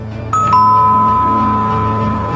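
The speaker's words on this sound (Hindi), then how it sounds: "दरवाजे की घंटी बजी।" A doorbell rings with a two-tone electronic ding-dong, close and clear, its chime ringing out for about two seconds.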